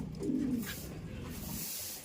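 Pet pigeons coo in a low, throaty rolling call near the start, then fade into a steady murmur of soft background noise around the loft.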